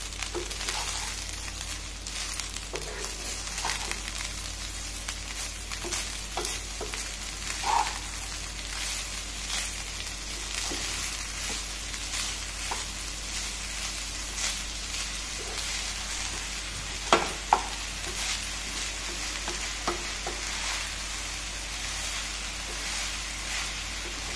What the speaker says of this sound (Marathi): साखर टाकायची आणि छान परतून घ्यायचं।